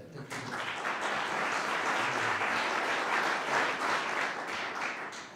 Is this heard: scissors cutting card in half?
no